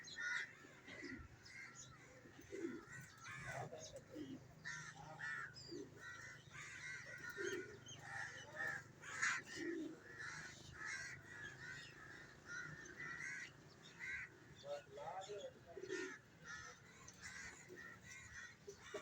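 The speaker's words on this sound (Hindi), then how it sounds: "ये ऊपर कौवे दौड़े हुए हैं जी।" Crows caw repeatedly overhead above a pigeon-keeping rooftop in Lahore, Pakistan, scattered harsh calls rising and fading at moderate distance over a quiet outdoor background.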